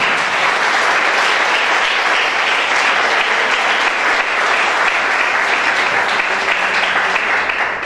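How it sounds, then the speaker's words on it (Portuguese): A large church congregation claps continuously and loudly, a dense, even roar of applause filling the whole stretch without pause. "Você pode aplaudir o Senhor Jesus, glorificar Ele por isso"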